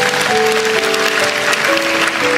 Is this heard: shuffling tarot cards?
no